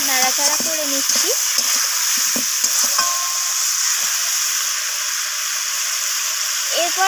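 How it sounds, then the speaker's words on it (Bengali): A rohu fish curry with beans, potato and cauliflower hisses steadily in the pan after salt goes in; a few close stirring scrapes come early and a voice is briefly audible. "লবণটা দেওয়ার পর আমি আবারও নাড়াচাড়া করে নিচ্ছি"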